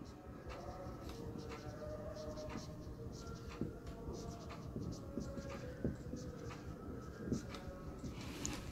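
Handwriting with a pen on paper during a Bengali-language finance lecture on capital budgeting: a steady, close scratching with small taps and strokes that runs continuously, with no talking.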